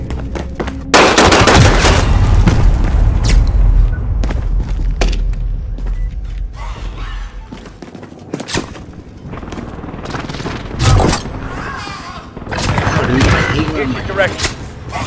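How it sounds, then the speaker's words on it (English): Heavy, sustained gunfire with booming blasts in the video game Street Fights continues for a long stretch, with dense rapid shots, explosions and a few lulls, while voices talk over the action. "Pumping bullets into their face"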